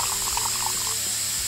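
Liquid poured into a container during a home chemistry mix, a steady watery splash and trickle close by, with no talking over it.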